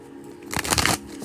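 A brief riffle of tarot cards being shuffled, a soft papery burst of flicking lasting about half a second, close by over a quiet background hum.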